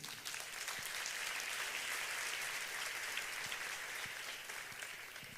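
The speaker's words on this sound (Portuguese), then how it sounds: "Você pode aplaudir o Senhor?" Church congregation applauding during a sermon, continuous dense clapping from many hands, fairly distant and quiet, holding steady throughout.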